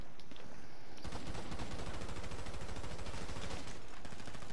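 Minigun fire in GTA V Online, a continuous loud rattling stream of rapid shots that rolls on almost without a break.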